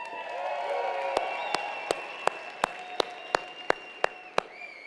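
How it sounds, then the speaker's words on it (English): An audience applauds at an energy product launch, with a crowd murmur building into clapping and a run of evenly spaced sharp claps rising in loudness. "How about another round of applause for the idea of a real solid energy product?"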